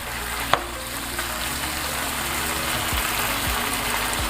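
Food sizzles steadily in a pan during a copycat Taco Bell enchirito recipe, a close, even frying hiss with one sharp clack near the start and no talking.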